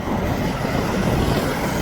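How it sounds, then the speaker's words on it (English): A Turkish Airlines A380 passes directly overhead at Manchester Airport, its engines making a loud, broad, steady roar that fills the whole moment. "Hearing those plane engines just straight over your head."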